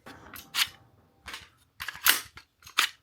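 Sharp metallic clicks and snaps from a magazine being inserted into and tested in an AR lower receiver on a workbench, several distinct close-up impacts spaced irregularly over a few seconds.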